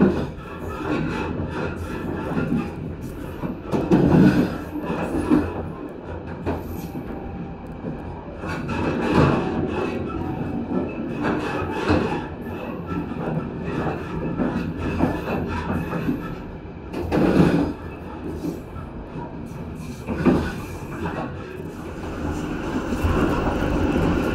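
Inside a moving KA Sawunggalih economy premium passenger train in Indramayu, West Java, a steady loud rumble of the carriage carries rhythmic clattering of wheels over rail joints, with periodic heavier clacks and no talk.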